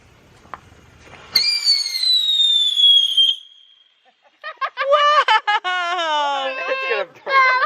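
Fourth of July fireworks go off close by. A sharp pop is followed by a long descending whistle, then a burst of shrill, warbling squeals that start and stop.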